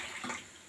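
Water poured into a pan of pui bituli curry, a brief faint splashing gush that swells and fades within a moment, no voices.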